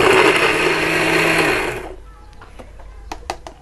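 An electric blender grinds a spice paste of galangal and a little water for a Minang home-style dish, giving a loud, steady, close whir for about two seconds before cutting off, followed by a few faint clicks.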